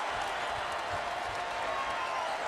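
A basketball arena crowd roars steadily throughout, a dense sustained wash of cheering with scattered claps and no distinct break.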